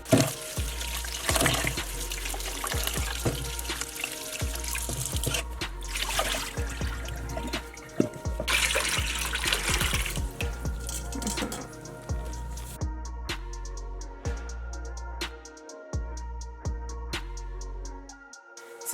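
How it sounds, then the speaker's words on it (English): Running tap water splashes over frozen shrimp being rinsed in a kitchen sink, a steady close stream of trickling and splattering with clinks, easing to lighter drips near the end. "It's still kind of frozen, so we gotta rinse it off."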